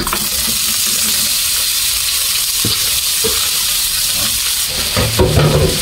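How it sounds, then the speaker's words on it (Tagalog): Washed monitor lizard meat, Ilocano style, dropped into a hot pan with bay leaf, a loud continuous sizzle with wet stirring and clinks, intensifying toward the end. "Pwede na natin ilagay itong hinugasan natin bayawak."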